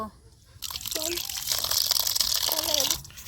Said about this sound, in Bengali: এই বাঁধাকপি এখন আমি পরিষ্কার করে ধুয়ে নিব।